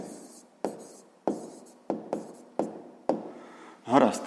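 A pen writes out the answer to a sixth-grade math exercise in a series of sharp strokes and taps at a steady rhythm, close and fairly quiet, ending in a longer scratchy stroke.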